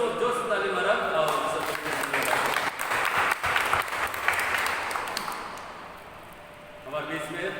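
Audience applause at a church youth day celebration, a loud, sustained burst of many clapping hands that swells and gradually fades, with a voice returning at the end.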